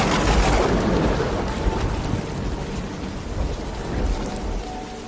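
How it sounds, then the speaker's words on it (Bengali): Heavy rain pours down with a deep rumble of thunder, the roll strongest at the start and fading into a continuous dense downpour, close and loud with no voices. "ঠিক তখনই বিকট আওয়াজে দূরে কোথাও যেন বাজ পড়ল।"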